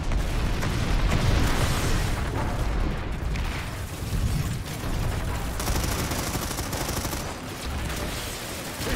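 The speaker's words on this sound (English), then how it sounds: "Send some rockets" Rockets and gunfire in the Planetside 2 video game form a continuous dense barrage of shots and rumbling blasts, loud and sustained throughout with no pause.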